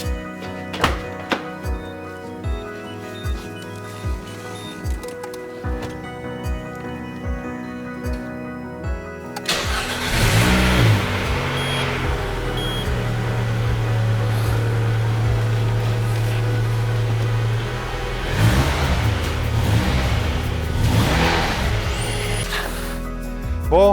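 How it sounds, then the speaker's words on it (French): Peugeot 206 RC engine cranked on the starter: first a ticking, clunking idle-off interval with rhythmic thunks, then the engine catches abruptly and roars into a loud, steady run with revving swells, close by. "Maintenant, on va aller mettre un coup de démarreur."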